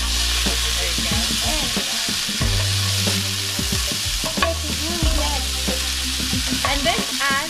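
Okra frying in a pan with tamarind and date chutney being stirred, loud steady sizzling with repeated scraping and clinking of a spoon against the pan, close up and without talk.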